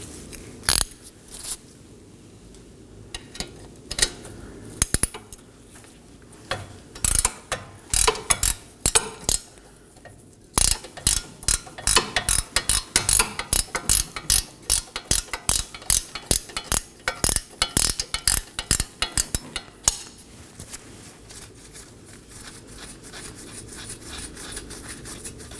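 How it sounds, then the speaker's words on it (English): An 18mm control arm stud nut on a Chevrolet Equinox being worked off with a ratcheting wrench, with close, dry clicks in scattered bursts that turn into rapid, dense runs of ratchet clicking. "I'll be using a wrench to remove this."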